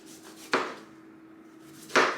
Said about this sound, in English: we're just gonna give it a rough chop real quick